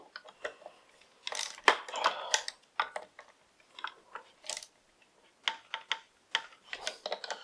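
Nuts are tightened on the cutter block of an electric planer, giving quiet, irregular metallic clicks and ratcheting ticks in short bursts, with no talk.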